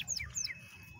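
A bananaquit gives a few quick, high, thin chirps that sweep downward, fairly faint over a low background hum with no voices.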